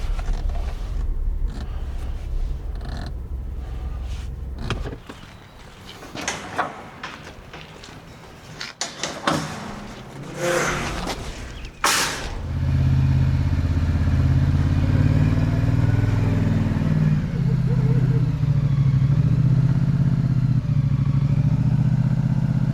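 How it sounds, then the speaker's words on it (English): A four-wheeler is driven onto a trailer for loading: clattering and creaking mechanical knocks come first, then the engine settles into a loud, steady rumble that holds for the remaining ten seconds, with no talking. "let's get this four-wheeler loaded"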